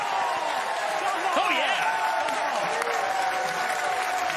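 A crowd at a professional bowling match cheers and claps continuously, with whoops and shouts rising over a steady wash of applause and background commentary-like voices.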